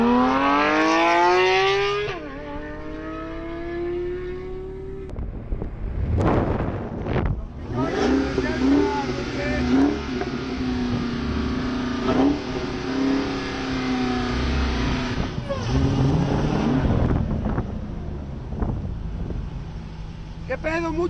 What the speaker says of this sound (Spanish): Oyeron el escape